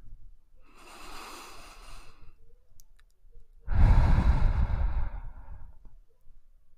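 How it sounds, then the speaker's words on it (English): A slow, deep breath in during a guided meditation, followed by a louder, breathy exhale, close to the microphone with no talking. "Now take a deep breath in."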